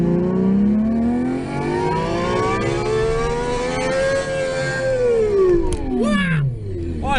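A Sound Racer toy car plays a V12 Ferrari engine sound, a continuous synthetic wail that rises in pitch, holds and then falls away, ending with a brief downward sweep.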